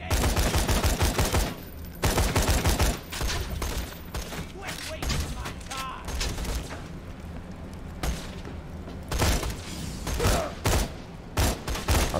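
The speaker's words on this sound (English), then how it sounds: "Oh yeah, burst fire." Rapid bursts of gunfire from a burst-fire gun in Borderlands 2, loud clustered volleys separated by short pauses, repeating several times with game effects and occasional talk in between.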